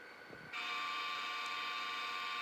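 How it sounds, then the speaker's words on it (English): A model locomotive horn played from sound programming software blares in after a short quiet moment, then holds as a steady, loud, sustained multi-tone blast to the end. "I also could try the horn out too, like I can click on it."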